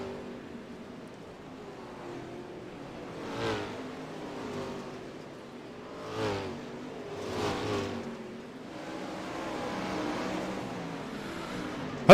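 360 wingless dirt racing cars on the Limaland track, engines droning at a distance with several swells as cars rev and pass by, fairly faint and steady.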